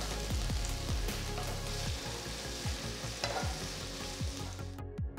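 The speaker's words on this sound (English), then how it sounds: "So I'm sautéing the onions on high flame." Thinly sliced onions and slit green chilies sautéing over high flame in a hot pan, a loud continuous close sizzle with repeated scraping stirs throughout, no talking.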